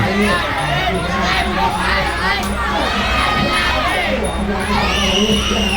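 Supporters in the red corner at a Muay Thai fight cheer and shout loudly and continuously, with excited voices and whoops rising over the crowd noise.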